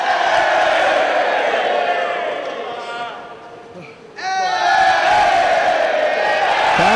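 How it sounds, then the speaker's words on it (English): A professional wrestling crowd at a Ring of Honor event roars and shouts continuously, dipping briefly before surging back loud, with a commentator talking over it. "Crowd staying on Castagnoli's case"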